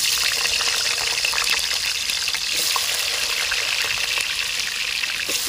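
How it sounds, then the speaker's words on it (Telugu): Washed, cut potato pieces deep frying in hot oil, a dense, even, close bubbling hiss that holds steady throughout with no voices. "కట్ చేసి కడిగి పెట్టుకున్న ఆలును ఇప్పుడు నేను ఇందులో డీప్ ఫ్రైకి వేస్తున్నా"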